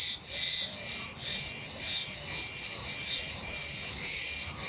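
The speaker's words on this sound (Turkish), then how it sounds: "Bu arada Ağustos böceklerini duyuyor musun?" Cicadas drone loudly outdoors in steady pulsing bursts, a dense shrill buzz repeating about every half second with no voices.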